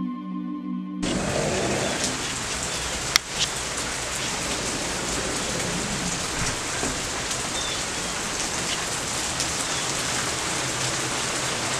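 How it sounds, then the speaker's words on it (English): Steady rain falls outdoors on a humid day, a dense, even hiss of drops striking surfaces that holds constant for the whole stretch, with a single sharp tap near the start and no voices. "And it is raining, so let's take a look outside."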